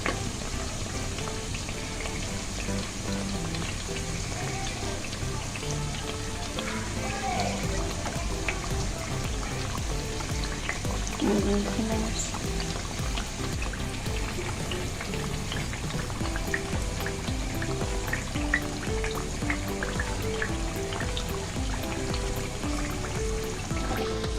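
Pieces of nimki bubble in oil on a low-medium flame, a constant, busy patter of fine crackles that holds steady from start to finish without speech.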